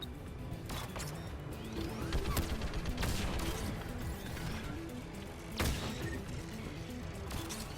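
Turret fire in the Mass Effect 3 video game, fighting Geth: rapid crackling bursts and sharp impact cracks layered over a dense, continuous game battle mix, with a heavier burst near the middle.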